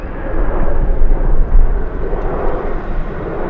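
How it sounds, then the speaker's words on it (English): An Airbus A321 airliner passes at LAX in strong winds, a loud, continuous engine roar that swells and rumbles, mixed with heavy wind buffeting. "That's an A321."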